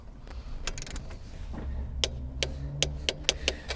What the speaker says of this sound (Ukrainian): Виставляємо 16 ньютон на метр і затягуємо.